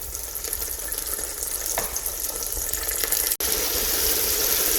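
Steady, dense sizzling of tomato paste frying in a pot, continuous and fairly close, with a brief cut near the end.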